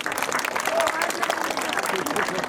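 An audience at a devotional ceremony claps in a dense, steady patter that runs the whole time, with voices mixed into the crowd noise.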